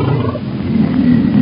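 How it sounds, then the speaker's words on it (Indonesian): A toy tiger gives a loud, close, growling roar with a tinny, small-speaker tone, lasting just over a second. "yang ini si belang atau harimau"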